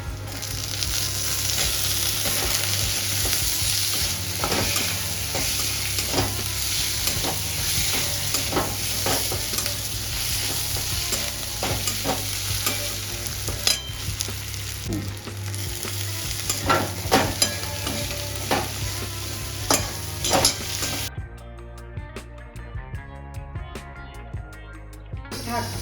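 Tomato sizzling and frying in oil in a pan while cooking Bengali aar fish kalia, a steady dense crackle with occasional stirring scrapes, then quieting near the end.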